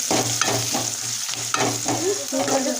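Sliced onions sautéing in a pan for a Tamil-style chicken curry, a steady close sizzle with repeated scraping stirs of a spoon, no voices.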